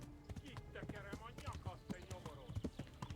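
Horse hooves gallop in rapid clip-clop rhythm in the video game Kingdom Come: Deliverance, the steady beats running under continuous talk from a man.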